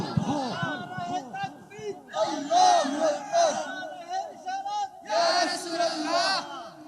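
A large religious gathering shouts takbir back in bursts, several loud massed crowd responses rising and falling, with a voice leading between them.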